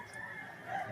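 A brief clucking call from an injured fighting rooster, close and fairly clear over faint background noise, lasting about a second with no talk.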